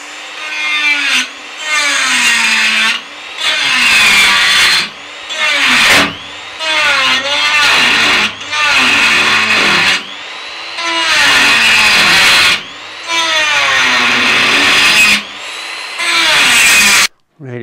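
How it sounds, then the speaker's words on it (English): A new Makita die grinder cuts brass out of a damaged metal motorcycle tank mount, a loud, continuous high whine broken by repeated short pauses and restarts as the tool bites into the brass. "This is the first time I've used my nice new Makita die grinder."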